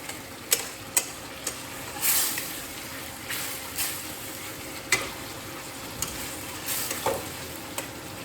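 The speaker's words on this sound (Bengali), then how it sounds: "হলুদের কাঁচা গন্ধটা কেটে দেওয়ার জন্য আমি একটু কষলাম।" Turmeric sautéing for a katla fish curry, a steady close sizzle of frying with irregular sharp clicks and scrapes of a spoon stirring against the pan, no talking.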